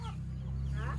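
A backyard chicken clucks softly a few times at close range over a steady low hum, the calls short and rising.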